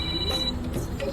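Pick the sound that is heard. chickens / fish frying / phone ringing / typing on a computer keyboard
phone ringing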